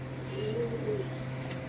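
An adult single female pigeon gives one soft, drawn-out coo over a steady low hum, fairly faint and close.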